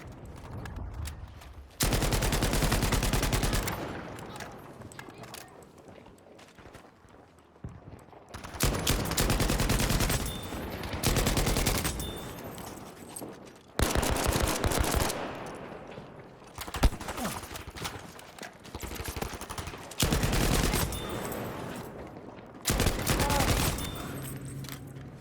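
Bursts of rapid gunfire from a Repetier pistol and an LS-26 rifle in Battlefield V Conquest combat, loud clustered volleys repeating every few seconds with brief quieter gaps between.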